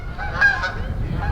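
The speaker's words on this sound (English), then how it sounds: "Oh, there's the geese. You hear them?" Geese honk at a distance outdoors in a quiet setting, a few faint overlapping calls over a soft background rumble.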